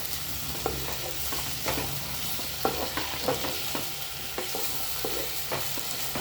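Food being stirred and mashed together with roti for a pet, a steady close scraping and squelching texture with soft irregular knocks, no voices.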